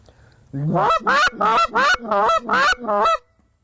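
A goose call is blown as a beginner demonstration, first with the finger closed over the end and then open, giving six or seven loud, close, honking notes in a steady rhythm with short gaps.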